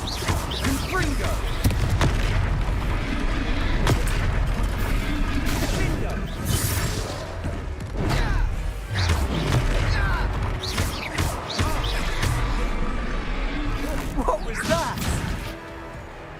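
Fiery spell blasts and crashing impacts from a Hogwarts Legacy battle burst repeatedly over dense game music and effects, with loud booms and debris-like smashes, while characters shout and talk throughout.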